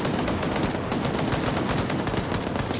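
Dense, continuous automatic gunfire in the Arma 3 video game during a large player-versus-player siege battle, loud and sustained rattling bursts overlapping with no pause.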